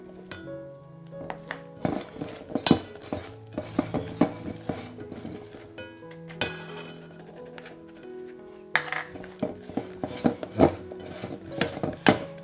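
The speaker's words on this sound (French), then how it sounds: "On l'incorpore petit à petit, toujours en mélangeant délicatement." Sifted flour is folded gently, bit by bit, into whipped egg-white sponge batter, giving soft, irregular clicks and taps of a utensil against the mixing bowl, with tonal background sound throughout.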